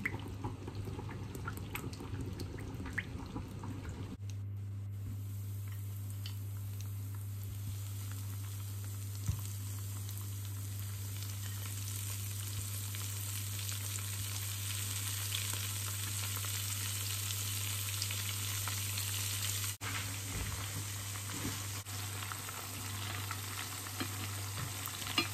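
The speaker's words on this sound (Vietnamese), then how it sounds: "Mình chiên cánh gà." Chicken wings fry in a pan with a little annatto oil, giving a steady, fairly quiet sizzle over a low continuous hum for the whole stretch, with a few small pops and no voices.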